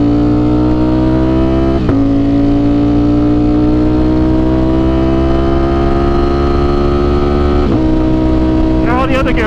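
Ducati Streetfighter V4S motorcycle with a Cordona quickshifter accelerating hard, a loud close engine note climbing steadily in pitch with two quick upshifts briefly interrupting the rising roar.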